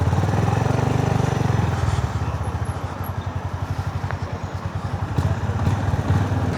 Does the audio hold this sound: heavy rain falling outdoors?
no